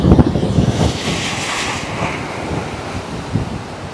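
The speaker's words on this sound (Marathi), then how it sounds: "लाटा बघा" Sea waves wash against the shore at a mullet fishing spot, a steady broadband surf roar with heavy wind buffeting the microphone throughout, no voices.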